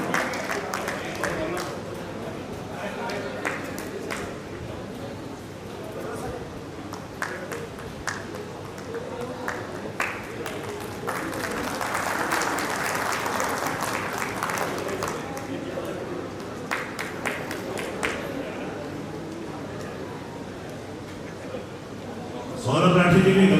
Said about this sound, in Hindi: प्रेसिडेंट सौरभ राठी के लिए जोरदार तालियां